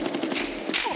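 An RPD machine gun fires in a sustained, loud burst of rapid shots in the Escape from Tarkov video game, close and dense throughout.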